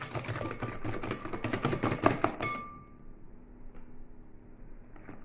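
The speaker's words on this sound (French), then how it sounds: "je vais un petit peu fouetter jusqu'à ce que le mélange blanchisse un petit peu" Eggs and sugar whisked rapidly in a bowl for a carrot or chocolate cake batter, a dense run of quick rhythmic clinking strokes that stops abruptly partway through, followed by quiet room noise.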